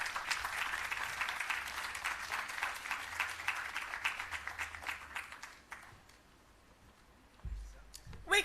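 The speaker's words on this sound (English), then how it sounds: "We can give the minister a larger round of applause than that one" At a public relations campaign launch, an audience applauds the minister with steady, moderately loud clapping that fades out after about six seconds, followed by quiet room sound and a few scattered noises.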